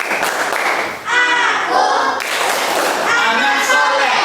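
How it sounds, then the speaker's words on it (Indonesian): Children do the rhythmic tepuk anak soleh clap in a classroom, short patterned claps mixed with loud group chanting voices. "Bapak minta kalian memberikan tepuk semangat atau tepuk anak soleh"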